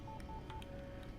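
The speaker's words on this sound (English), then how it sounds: "What does this button do? Ping? Wait, why has it got such a fun ping noise?" Short electronic button pings from the video game Divinity: Original Sin 2, a few quick bright tonal beeps in a rapid sequence, faint and clean with no voices.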